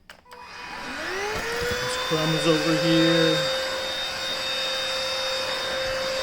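A stick vacuum cleaner whines up to a steady, loud drone and keeps running as it sucks up crumbs, with a brief rattling tone partway through; a person speaks briefly over the motor.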